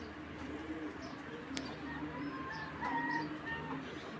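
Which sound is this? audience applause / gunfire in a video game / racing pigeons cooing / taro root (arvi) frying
racing pigeons cooing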